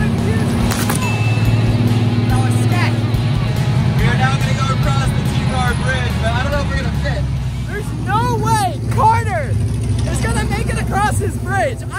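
A monster truck rolling along a driveway, its engine droning steadily up close while people talk and call out excitedly over the rumble.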